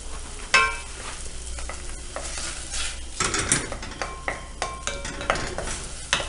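Chopped green onions frying in a little oil in a pan, a steady crackling sizzle with scrapes and clinks of a utensil stirring, close and continuous with no talk.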